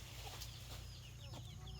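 Sick farm chickens cluck faintly in the background, a few soft, scattered clucks over a low, steady hum.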